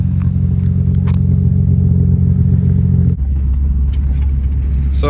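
An Infiniti G35 with newly fitted camber arms on a test drive through a neighborhood: a steady, close engine and road rumble with a marked drop in pitch around the midpoint, as if shifting, and no talking.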